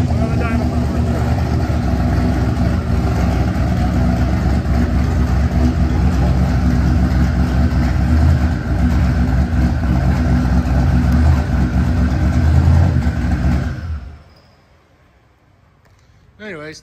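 A 1968 Chevy C10 regular-cab longbed with a twin-turbo 5.3-liter LS V8 runs loud and steady on a chassis dyno, a dense sustained roar that cuts off abruptly near the end, leaving near silence and a brief final burst.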